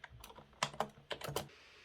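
Typing on a Microsoft rubber dome keyboard, a quick run of soft muffled key presses in short uneven bursts, close and quiet, with no talk.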